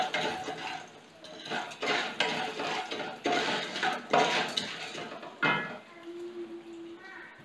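About half a cup of corn kernels rattles and scrapes in a metal pot being shaken for homemade popcorn, several rhythmic bursts of clattering close by, with a low hum near the end.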